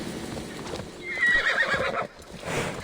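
A horse in Assassin's Creed Valhalla, in a snowy area, lets out a loud whinny over a rhythmic clip-clop of hooves, close by, with game ambience around it.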